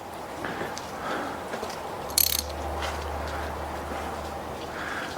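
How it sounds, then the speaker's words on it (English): A ratchet wrench working on a broken bolt gives a brief, close burst of quick clicks against a steady low mechanical hum. "Let me just make sure my ratchet is set."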